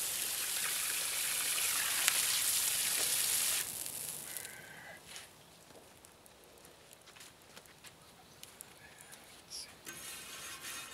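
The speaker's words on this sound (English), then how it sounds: "so we'll fill this up with water," Loud hiss and sizzle as water hits a hot Portuguese fry pan, settling after a few seconds into quieter crackling and bubbling.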